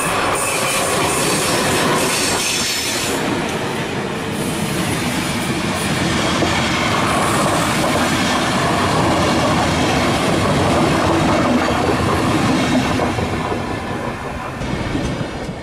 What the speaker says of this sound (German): Gleichzeitig fährt ein Intercity aus Westerland ein, an dem die beiden Kurswagen angekuppelt werden sollen.